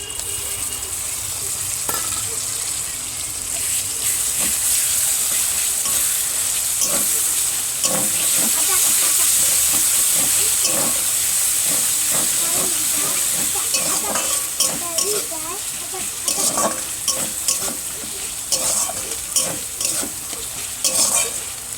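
Ginger, garlic and cumin paste is fried with onion and tomato in a pan, giving a steady hissing sizzle broken by repeated scraping stirs that grow more frequent toward the end.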